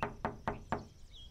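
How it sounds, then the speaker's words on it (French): Knuckles rap on a bedroom door four times in a quick, even rhythm, each knock crisp and close, followed by faint room sound. "Trois petits coups se font entendre à la porte"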